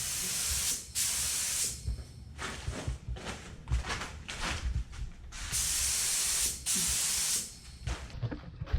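A spray gun lays base coat paint onto a piece of cardboard during a test for a Honda CRX Si bumper paint job: several sustained hissing bursts of about a second each, separated by brief pauses and softer sputters, close and loud with no talking.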